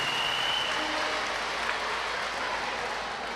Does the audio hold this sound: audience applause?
yes